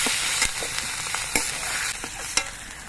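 Fried broccoli being stirred and lifted from a hot oiled pan, with a steady crackling sizzle and several sharp spatula scrapes and taps.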